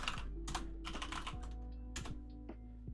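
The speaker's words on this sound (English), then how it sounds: "let me type that out for clarity" Keys clatter on a computer keyboard in short irregular bursts of typing, close and fairly quiet over a low steady hum, with no talking.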